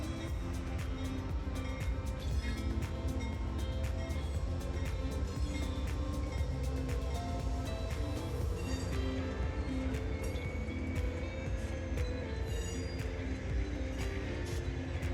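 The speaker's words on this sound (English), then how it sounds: "in pulls Train 6," Amtrak's California Zephyr passenger train pulls into a station platform at night, a steady, low rumble with faint metallic clinks continuing throughout, no voices.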